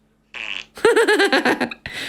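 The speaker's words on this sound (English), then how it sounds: "Farts generator, no. Okay, what does that do? Double fart." A two-part cartoonish fart sound effect from a phone fart generator app, a short buzzy blast followed by a longer, wobbling, pitch-varying raspy fart, loud and close with no talk over it.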